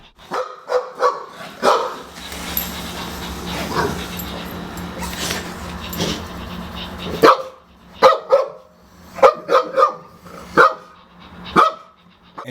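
Real dogs bark at a Zoomer robotic toy dog in sharp, repeated close barks, with a busier, noisier stretch in the middle before separate barks return.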